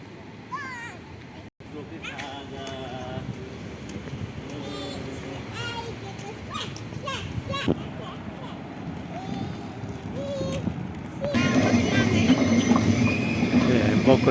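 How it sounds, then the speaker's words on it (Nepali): A train runs through a station in Hamburg, Germany, with a continuous rolling rumble and clatter beneath people talking nearby. The rumble swells noticeably louder toward the end. "हेम्बर्गको ट्रेन है। ट्रेन स्टेसनमा छौँ अहिले हामी, कुदिरहेछ ट्रेन।"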